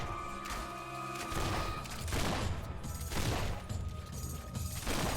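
Rifle gunfire in the fantasy action game Fable III, dense repeated shots and impacts mixed with combat clatter and a layered game soundtrack.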